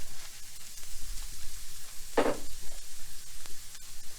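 Mushrooms sizzle in a pan beside a seared beef tenderloin roast, a steady close crackling fry with a brief louder spatter in the middle and no voices over it.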